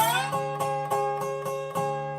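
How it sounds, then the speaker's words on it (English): Slide guitar plucks a steady string of notes, each landing a bit flat and off-key, ringing clearly with no talking. "And if we go a little bit flat,"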